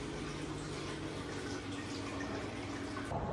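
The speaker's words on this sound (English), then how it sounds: "the big fish tank, which makes you want to need a wee because you can hear the water running" Steady water running in a large fish tank, a continuous broadband wash and trickle that stays even and moderately close throughout, with no voices.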